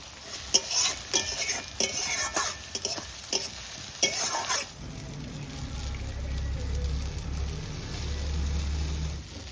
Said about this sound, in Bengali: ছোটো করে রসুনটা দিয়ে দিচ্ছি